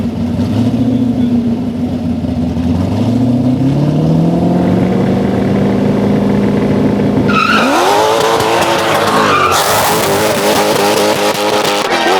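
An 850hp Baja Bug and a Chevy Corvette C8 drag racing on a no-prep strip: engines rev and climb through gears, loud and close, before a sharp tire squeal and a burst of roaring, crackling exhaust.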